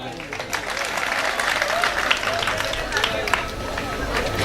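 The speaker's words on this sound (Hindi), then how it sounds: "एक बार आप अपने लिए तालियां बजाएं" A mushaira audience applauding, a dense, sustained burst of clapping from a crowd with background murmur, steady and fairly loud for the whole stretch.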